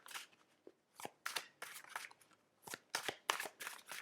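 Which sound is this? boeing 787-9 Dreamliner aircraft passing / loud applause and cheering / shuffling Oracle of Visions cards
shuffling Oracle of Visions cards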